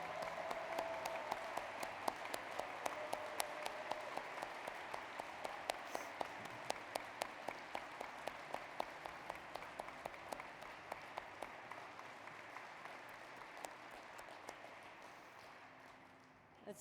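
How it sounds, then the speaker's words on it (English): Long, even applause from a commencement ceremony audience honoring master's graduates, dense clapping with a steady pulse, somewhat distant and soft, slowly fading over about seventeen seconds. "Let's applaud those wonderful master's students and those extraordinary accomplishments."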